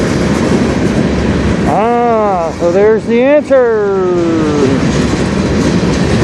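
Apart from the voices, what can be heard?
small empty freight train of flat cars passing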